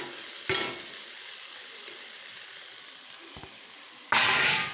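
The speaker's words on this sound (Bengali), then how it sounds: "তো এইগুলো দিয়ে আমি ভালো করে এটাকে কষিয়ে নেব" Fried potatoes for vegetarian aloo dum sizzle in an oily pan with spices, a steady hiss broken by two louder bursts as they are stirred close by.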